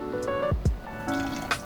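A small splash of vinegar poured into vegan sriracha ramen sauce, heard as a brief liquid trickle and a few soft drips, close and fairly quiet.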